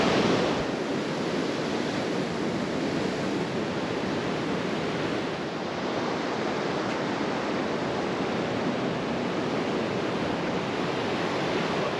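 Ocean waves wash steadily onto a beach as the tide comes in along the Bibbulmun Track coast near West Cape Howe, a continuous loud roar of surf with some wind, no voices.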